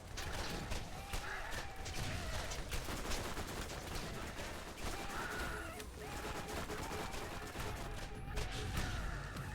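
Gunfire in the video game Borderlands rattles in dense, continuous bursts over a thick, busy mix of mechanical game noise, steady and moderately quiet throughout.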